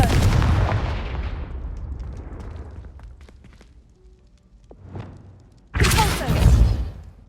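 Confringo fire spell explosions in Hogwarts Legacy, a loud booming blast that rumbles and decays over several seconds, then a quieter thump and a second heavy explosion near the end.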